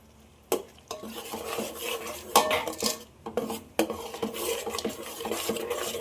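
A ground paste of tomato, coconut and spices fries in a pot for Rayalaseema-style chicken sharwa while a metal ladle stirs and scrapes repeatedly, clanking against the pot close up over a soft sizzle, with no voices.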